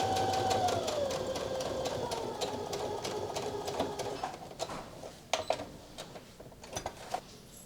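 A sewing machine stitches a hip dart on pants, its needle chattering steadily at close range for several seconds, then slowing into a few separate, uneven bursts of stitches as the stitch length shortens near the dart point.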